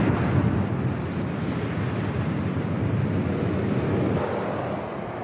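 Sea waves surge against the shore in a steady, broadband roar, continuous and fairly loud with wind-like hiss and no voices.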